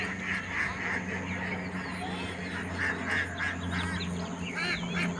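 Many ducks quack and honk on a duck farm in a busy, overlapping chorus of nearby calls over a low steady hum.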